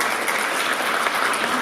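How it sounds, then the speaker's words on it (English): Audience applause at a live event, a steady dense wash of clapping from a crowd filling the whole stretch at even loudness, with no talk over it. "Yes, applaud, Bill."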